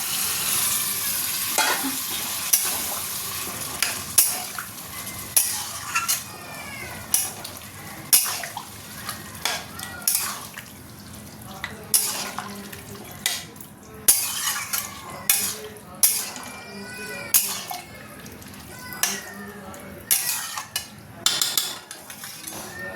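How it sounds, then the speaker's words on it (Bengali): Chickpeas cooking in a pot, with a steady simmering hiss under repeated scraping and clinking stirring strokes of a utensil against the metal, close and busy throughout. "ছোলাটা দিয়ে দেবো এতে দিয়ে"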